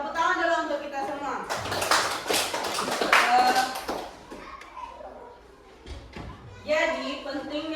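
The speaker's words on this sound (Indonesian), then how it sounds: "Oke, tepuk tangan dulu untuk kita semua." Applause from a primary school class during a computational thinking lesson, a burst of group clapping lasting a few seconds between stretches of a teacher speaking.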